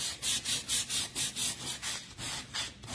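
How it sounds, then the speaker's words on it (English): Sandpaper rubbed by hand over the edges of painted wood for a distressed Christmas tree sign, making a steady run of rhythmic rasping back-and-forth strokes, close and loud, with no talking. "We're gonna take that sandpaper to parts of it, kind of rough the edge up a little bit more"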